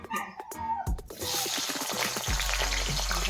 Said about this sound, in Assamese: এয়া মায়ে আগতে আলু ইয়াত দি দিলে, আলুখিনি আগতে ভাজি ল'ব বোলে।